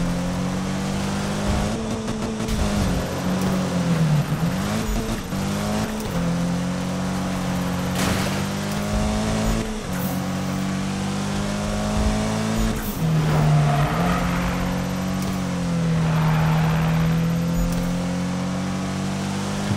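Engine of a drifting car in the racing video game Need for Speed 2016, a steady loud drone that rises and falls with revving, with tire squeal and shifting pitch throughout.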